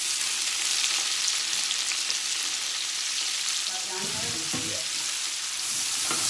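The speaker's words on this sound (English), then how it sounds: "Okay, you see it's frying up. I want to get it crispy" Food frying in a pot as the base for split pea soup with ham, a steady loud sizzle running throughout with brief stirring clatter near the middle, no talking.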